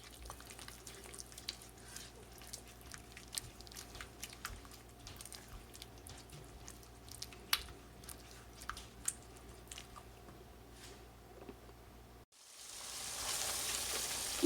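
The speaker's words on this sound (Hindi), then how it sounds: "दही डालने के बाद हम इसको अच्छी तरह से भून रहे हैं।" Yogurt masala for shahi paneer fries in a pan with a faint steady sizzle and scattered ticks of stirring, quiet and without talk, ending in a burst of louder hiss.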